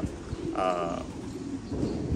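A loft pigeon gives a short, low coo at close range, with other background sounds around it.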